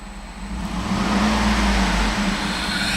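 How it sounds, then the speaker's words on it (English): A 2008 Cadillac Escalade engine revving while parked, a loud, close rumble that rises after a brief moment and holds a steady droning tone. "I'm going to rev the engine."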